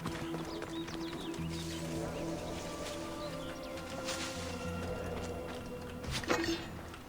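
A horse gallops in Assassin's Creed Odyssey, its steady hoofbeats running under constant game ambience and music, with a louder thud near the end.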